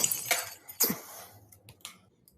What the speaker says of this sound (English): he played the sound of the glass breaking